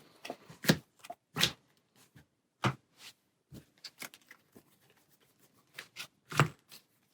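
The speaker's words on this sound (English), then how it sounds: "And we shuffle." Board game cards are shuffled and riffled in a quiet room, making a series of sharp, close, irregular snaps and flutters with short pauses between them.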